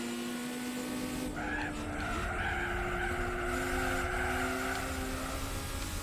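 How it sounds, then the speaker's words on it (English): Tyres squealing from a car in the racing video game Gran Turismo 4, a sustained rising screech over engine drone, fairly faint and continuous. "That's why you're hearing a lot of tyre squeal."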